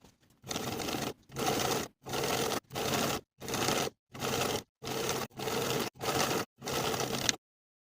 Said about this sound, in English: I'm going to edge stitch along that folded edge from the top,